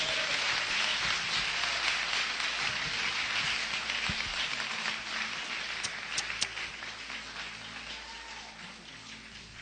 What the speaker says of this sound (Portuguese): Vamos receber o pastor Marcos Feliciano com as palmas bem fortes